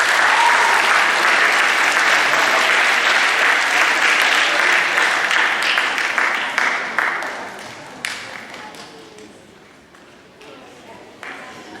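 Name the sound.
applause for junior high cross country team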